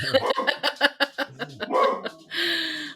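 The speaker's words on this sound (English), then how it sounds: "I'm gonna guess he's gonna continue to bark" A dog barks in a quick series of sharp, fairly close yaps, followed by a whine and a longer drawn-out bark at the end.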